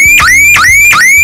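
A loud electronic boat water alarm siren, triggered by a float switch, wails in rapid repeating sweeps, three rising cycles in quick succession, shrill and close.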